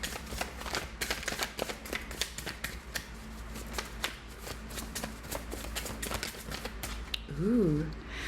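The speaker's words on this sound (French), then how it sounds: "petit velours sur la table en verre pour éviter que ça fasse un bruit de dingue quand je bats les cartes" Tarot cards being shuffled on a small velvet cloth over a glass table make soft rapid riffling and tapping that run steadily and up close, and a brief voiced sound comes near the end.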